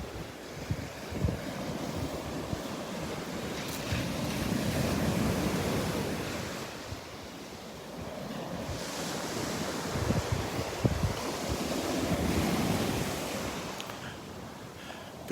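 Surf rolling onto the beach at Delnor-Wiggins on a Sunday morning, a continuous wash of waves swelling and fading in slow surges, mixed with gusting wind buffeting the microphone, with no voices.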